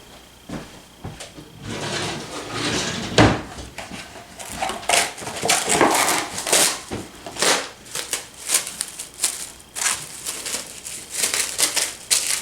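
Stuffing being stirred and pushed around a pan, with repeated scraping, rustling strokes and occasional knocks of the utensil against the pan, close and uneven in rhythm.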